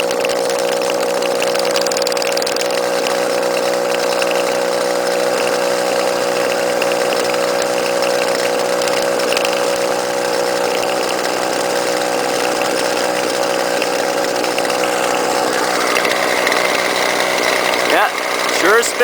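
A small gas-powered string trimmer or leaf blower engine runs steadily at a buzzing, near-constant pitch for the whole stretch, loud and close, with a slight change in tone near the end.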